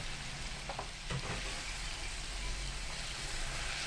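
Spinach and potatoes, cooked with bori lentil dumplings, sizzle softly in a pan as they are stirred together, with a few quick scraping strokes early on over a constant low hiss.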